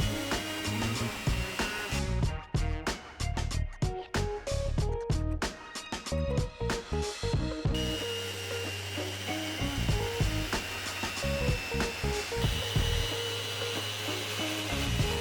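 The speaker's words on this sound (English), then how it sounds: "you're gonna then move over to your sander, and you're gonna sand for no less than 17 hours" A power sander working an epoxy table top that holds cast bullets, giving a steady loud whir with a hiss of abrasion, broken by rhythmic bursts and then a sustained, continuous grind.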